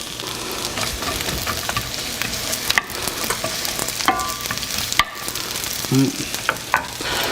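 Onions frying in a hot pan for rice pilaf: a loud, steady sizzle with frequent scraping stirs and light clicks of a utensil on the pan.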